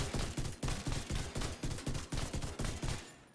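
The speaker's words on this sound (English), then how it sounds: "If you just look at how fast you can fire this rifle." Rapid-fire shots from an exotic rifle in The Division 2, roughly a dozen loud, close bursts in an even, quick rhythm, ending abruptly after about three seconds.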